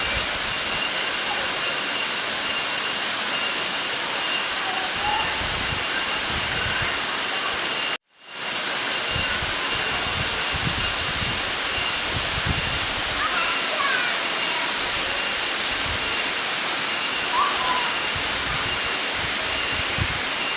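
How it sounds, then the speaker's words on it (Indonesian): Roaring rush of the Singo Kromo waterfall in Nganjuk, a loud, steady broadband wash of falling water that cuts out briefly for a moment before resuming. "Dan ini di atas air terjun Sinokromo guys, masih ada sendangnya nih"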